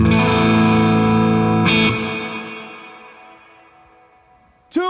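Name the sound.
electric guitar with reverb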